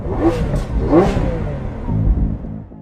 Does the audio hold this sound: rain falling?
no